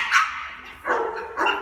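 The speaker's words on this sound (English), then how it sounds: "there might be a barking dog behind me" A dog barks outdoors at a dog show, giving three loud, close, yelping barks spaced about half a second apart and heard alone without speech.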